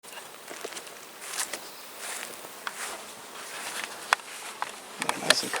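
Bees around a small starter hive on a calm day give a continuous airy buzz, with scattered light ticks and taps nearby.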